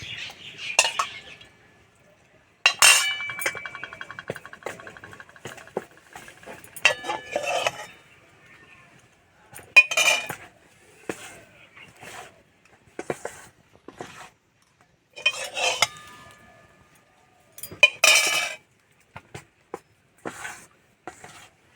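Sieved rice flour worked with hot water in a bowl for rice cakes, scattered scraping and clinking strokes with quiet pauses between, close and fairly soft.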